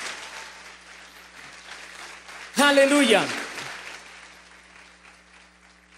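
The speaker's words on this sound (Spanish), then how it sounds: "Dale un fuerte aplauso a Dios." A church congregation applauds at a Spanish-language service, the soft spread-out clapping running under the pastor's voice, which rises into a brief loud shout partway through before the clapping fades.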